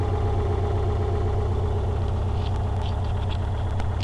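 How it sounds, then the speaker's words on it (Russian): A Subaru engine idles with a steady low drone and a persistent rhythmic knocking from a worn motor, heard close and continuous throughout. "Мотор что стучит"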